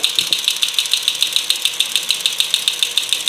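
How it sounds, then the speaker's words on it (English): Internal gears of a James Bond tin toy car run with a loud, close, rapid ticking clatter, repeating in a steady mechanical rhythm with no voices. "as you can see, the internal gears are working."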